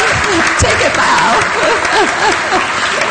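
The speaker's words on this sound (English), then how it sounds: "I think applause" Audience applause at a talk by a cookbook author, steady loud clapping throughout with voices chattering underneath.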